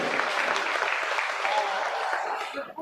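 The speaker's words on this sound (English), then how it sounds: "Let's give them a big round of applause for an excellent job in Kingwood showmanship." A crowd at a youth livestock show applauds a beef showmanship class steadily, a broad wash of clapping that holds at an even level before tapering off at the end.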